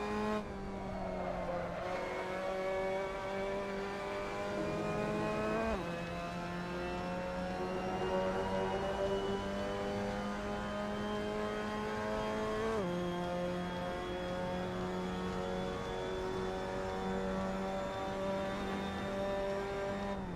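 Mazda MX-5 Cup race car on the Sebring circuit in Assetto Corsa, its engine droning loud and steady at high revs, with two sharp downshift drops in pitch as it brakes, no talking.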